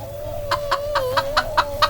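Chickens cluck in a chicken run on a ramshackle farm, a steady series of about seven short clucks at a quick even pace, close and clear over a low background hum and a sustained tone.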